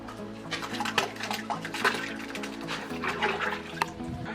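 Desi cow dung is tipped into a drum holding 200 litres of water, giving a continuous sloshing, splashing churn of water that stays close and fairly steady for a few seconds, with no voices.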